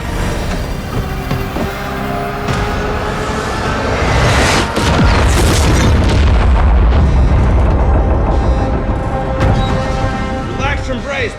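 A missile strikes a warship in a loud, sustained explosion with heavy low rumble, rising to a peak midway and churning on with debris and roaring noise, while voices speak faintly underneath.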